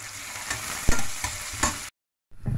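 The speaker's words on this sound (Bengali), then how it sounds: "পেঁয়াজ কুচি গুলো দিয়ে আমি একটু নাড়া দিব" Chopped onions frying in a pan and stirred with a few scraping strokes, a steady close sizzle with soft knocks, cutting out briefly before resuming near the end.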